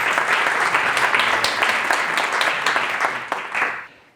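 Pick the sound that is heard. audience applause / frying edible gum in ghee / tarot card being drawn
audience applause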